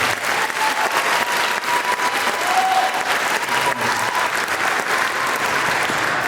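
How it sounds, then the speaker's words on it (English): Steady, full applause from an audience at a middle school spring band concert, sustained evenly throughout with a crowded, close clapping texture and no break. "Please give them a round of applause."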